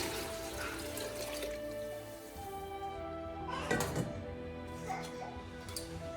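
Water pours steadily into a cooking pot for lentil soup, a soft continuous trickle and splash heard at low level, with a few brief clinks and louder splashes partway through.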